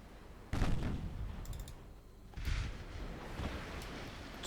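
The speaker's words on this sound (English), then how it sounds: "So we'll switch the guns on." Naval guns firing in a dreadnought warship game, a few distant muffled booms spaced a second or two apart against a quiet hissing background.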